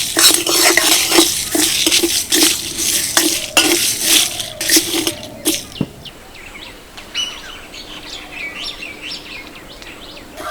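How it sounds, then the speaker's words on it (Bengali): Black mustard seeds and whole spices dry roasting in a pan for a spicy mango pickle, with brisk, rhythmic scraping and stirring for about six seconds, then a quieter stretch of faint clinks and light background chirps. "সবগুলো মশলা বেশ সুন্দর করে ভেজে নিয়েছি।"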